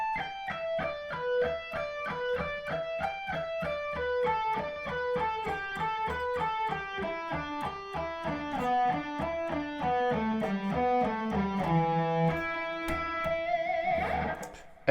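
Electric guitar playing a fast pentatonic lick at a slightly slowed pace, a steady run of clean picked notes descending in pitch over about fourteen seconds, moderately quiet and alone, ending with a sustained final note.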